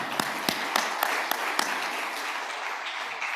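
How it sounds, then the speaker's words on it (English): A closing-ceremony audience applauds the AV crew, sharp individual claps standing out early before settling into a steady, even wash of clapping. "A big round of applause for them."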